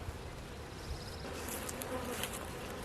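Honeybees buzzing steadily around an open hive, a soft, continuous drone with a few nearer passes rising briefly above it.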